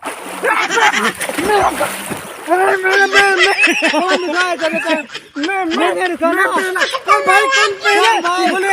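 People splashing and sloshing in water, repeated bursts of splashing under lively, excited talking and shouting that dominates throughout.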